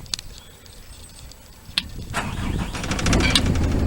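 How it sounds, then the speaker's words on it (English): A Dieci telehandler access platform's engine is started: a click, then cranking that catches and swells into a steady, close running rumble over the last couple of seconds. "We then have an engine start switch,"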